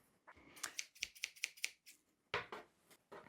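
Scissors snip through a band T-shirt, about a dozen sharp, close cuts arriving in quick irregular bursts with short pauses between, no voices.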